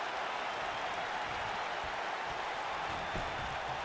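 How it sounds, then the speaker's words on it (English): Crowd cheering from a WWE 2K19 wrestling video game match, a steady broadband roar of arena noise held at an even level throughout without any talk. "The crowd's loving it."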